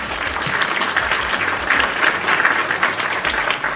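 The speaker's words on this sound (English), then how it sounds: "So round of applause for the PWT universe" A crowd applauding during a wrestling podcast, a continuous dense patter of many hands clapping at close range with no voices.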